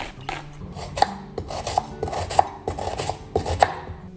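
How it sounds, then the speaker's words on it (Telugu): A knife chops onions on a cutting board while preparing mutton kheema, giving a quick series of crisp, close taps with short uneven pauses. No one speaks. "ఫస్ట్ అయితే ఉల్లిపాయలు కోసేసుకుందాం"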